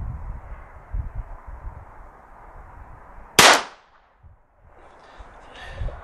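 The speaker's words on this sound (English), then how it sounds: "This will be five shots," A single sharp gunshot from a J. Stevens New Model Pocket Rifle cracks loudly at close range over low outdoor background noise, then fades quickly.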